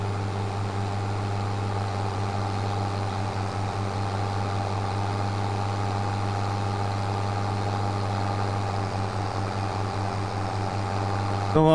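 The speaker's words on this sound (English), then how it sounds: "Come on, little tractor," A tractor engine in Farming Simulator 25 drones steadily as it climbs a hill, a constant low hum with a faint rhythmic pulse throughout, no talk over it.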